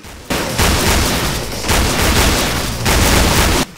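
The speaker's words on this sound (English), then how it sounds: "Just one shot from a flare gun." Flare gun shots in a video game: loud, dense gunfire-like blasts in three long sustained bursts separated by brief gaps, harsh and close, with no talking over them.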